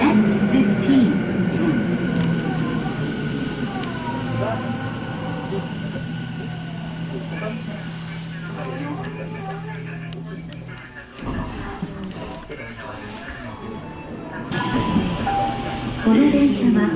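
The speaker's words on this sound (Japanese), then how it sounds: "This train is the F Liner Express." A Tokyo Metro Fukutoshin Line F Liner express train running underground, heard from inside with a steady rumble and a whining motor tone, while an onboard announcement speaks over it.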